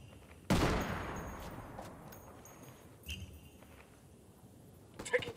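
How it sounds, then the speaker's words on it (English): Gunfire in the tactical shooter game Ghost Recon Wildlands: a sharp, loud shot that rings out and decays, followed by scattered fainter distant shots and clinks. "Taking fire!"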